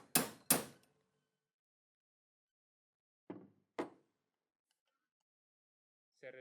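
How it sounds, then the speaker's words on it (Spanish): Hammer blows driving a femoral cutting block into place during a primary total knee replacement, with two sharp metallic strikes up front, then two more after a pause and a faint final tap, in an otherwise quiet room. "Fijamos el bloque de corte femoral y con la ayuda del martillo lo impactamos en su"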